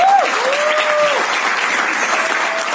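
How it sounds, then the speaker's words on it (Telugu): An audience at a motivational leadership talk gives a loud, continuous round of applause, dense and close throughout, with faint tonal whistles or voices rising over the clapping. "సార్ ఎస్పీ బాలాజీ సార్కి ఒకసారి బిగ్ రౌండ్ అప్లాజ్ ఇవ్వండి"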